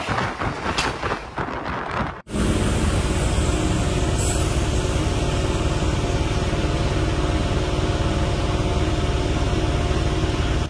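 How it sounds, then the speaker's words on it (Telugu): A MEMU express train running between Tenali and Vijayawada, heard from aboard as a steady, loud rumble of wheels and engine that drops out briefly near the start, then continues unbroken. "మన ట్రైన్ అయితే త్రోడ్ స్టేషన్గా చిలవూరు వచ్చిందనమాట."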